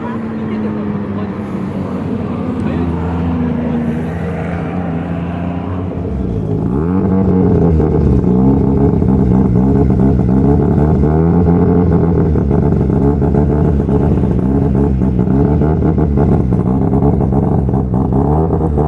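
A Mazda RX-7 drift car from a Japanese drift event revs with a droning engine note that rises and falls repeatedly and grows louder midway, while a commentator talks over it throughout.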